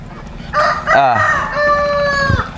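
A rooster crows once, loud and close, a rising then sustained cock-a-doodle-doo with a brief cluck at the start, heard alone.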